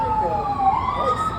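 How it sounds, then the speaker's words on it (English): An ambulance siren wails with rising and falling tones, passing near a drive-in restaurant, loud and continuous over brief background voices. "What was it? Ambulance."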